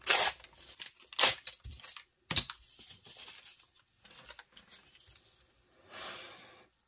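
Paper torn along a ruler for a craft belly band, heard as several short, close ripping bursts with pauses between them and softer rustling handling in the gaps.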